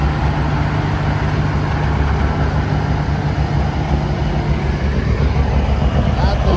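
A Peterbilt 379 long hood single-drive truck fitted with aggressive jake brakes rumbles steadily, a loud close low drone that holds for several seconds without a break.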